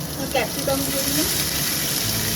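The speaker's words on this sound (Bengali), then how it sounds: "ফ্রাইড রাইসে সবজি ভাজা হচ্ছে।" Vegetables and capsicum fry in a pan for egg fried rice, giving a close, steady sizzle, with a brief faint voice partly audible over it.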